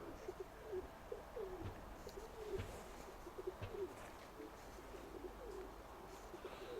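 A pigeon coos in soft, repeated phrases outdoors near a house. The calls are faint and steady, with no talking.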